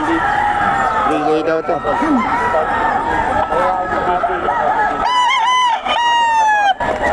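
Roosters crowing loudly and repeatedly at a busy fowl sale in Bocaue, with clucking underneath and a voice talking over the birds throughout.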